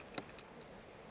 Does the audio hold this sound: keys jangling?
yes